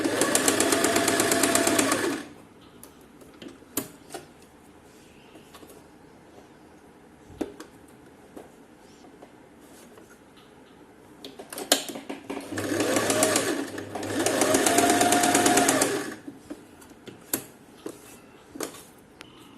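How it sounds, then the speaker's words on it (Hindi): A sewing machine stitches across a kurti neckline from corner to corner, running in two loud, steady bursts of about two seconds each, with quiet pauses and small handling clicks in between. "मैं आपको सिलाई लगा के दिखाती हूँ।"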